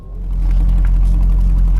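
A heavily modified Jensen CV8 V8 engine purrs at a steady idle, a close, loud, low rumble that swells in over the first moment and then holds even.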